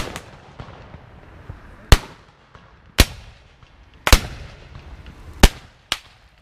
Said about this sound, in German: Spann den Hahn. Hochlegt an. Und jetzt nacheinander.